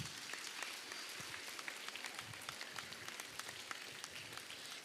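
Faint, distant applause from a seminar audience at a women's college prize ceremony, a soft continuous patter of many hands.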